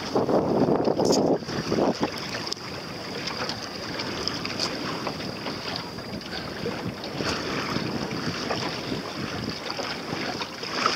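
An Optimist sailing dinghy tacks on open water in the wind, with steady wind buffeting and rushing water around the small hull throughout and a louder gust at the start.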